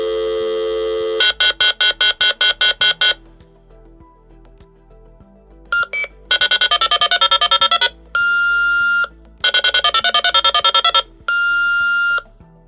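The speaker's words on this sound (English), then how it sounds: "I'm going to play for you what a successful alarm transmission sounds like" An alarm panel sends its transmission over a Starlink radio: a rapid series of dialing tones, then bursts of warbling data tones alternating with steady single-pitch beeps, loud and close with short gaps between.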